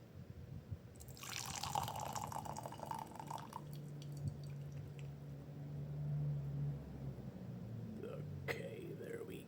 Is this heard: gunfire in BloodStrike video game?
no